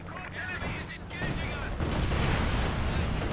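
Incendiary artillery barrage in a Company of Heroes 2 battle, a dense clatter of shell bursts and crackling fire swelling louder midway, with a commentator talking over it.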